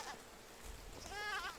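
Lambs bleating in the farming game Medieval Dynasty, a short wavering cry rising near the end over a low background hum, close and moderately loud.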